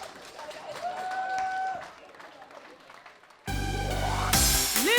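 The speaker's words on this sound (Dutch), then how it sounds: "Mag ik een heel groot applaus voor" An audience at the Parksjtad Leedjes Konkoer 2020 song contest applauds the winner. A loud, close wash of clapping starts abruptly after quieter speech and music.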